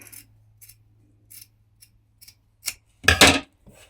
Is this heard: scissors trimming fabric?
yes